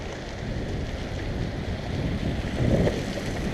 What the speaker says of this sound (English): You can hear the wind in the trees.